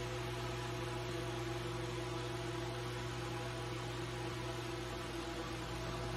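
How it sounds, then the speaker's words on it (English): Exhaust fans in a custom glass greenhouse run with a constant, even mechanical hum and whooshing airflow, a steady drone with no pauses and no voices. "We have these exhaust fans that Gothic Arch put in for us"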